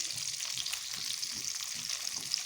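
Eggs sizzle steadily in hot oil in a pan for a spicy egg curry, a dense continuous crackling hiss with small pops, close and even throughout.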